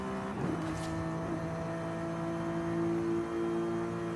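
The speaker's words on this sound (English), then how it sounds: "kind of letting the engine do the braking while keeping it in a low gear" Car engine in the Forza Horizon 5 racing game, held in a low gear with engine braking at about 130, giving a steady droning hum with sustained tonal whine, fairly loud and continuous throughout.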